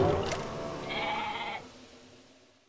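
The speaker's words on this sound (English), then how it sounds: "There's one bad sheep." A single bleat from a sheep in the video game Okami, a short nasal call lasting under a second, comes over game music and fades out as the backing sound thins.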